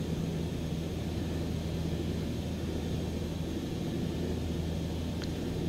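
Steady broadband drone of a Cessna light aircraft engine in flight near runway 27 at Bristol Airport, heard from inside the cabin as a constant, loud engine and propeller roar with no pauses and no voices.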